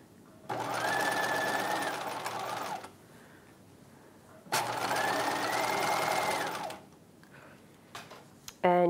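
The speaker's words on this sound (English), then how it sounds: "I'm sewing over those folds right now. I'm sewing at 5/8 of an inch using my regular stitch length." A home sewing machine stitches a 5/8-inch seam at regular stitch length across the folds of a 1950s halter dress, running in two steady, loud whirring bursts of a few seconds each with short pauses between them.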